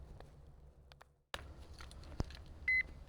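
A metal detector gives a short high electronic beep on a signal while someone digs a hole for relics outdoors, with small rustles and a sharp knock before the single steady tone near the end.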